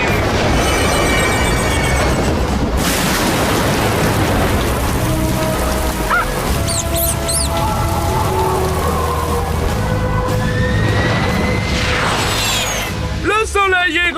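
Steady cartoon rain pours loudly throughout, a dense hiss with a few rumbling bursts, while animated characters talk and shout over it; a brief chirpy sound effect closes the scene.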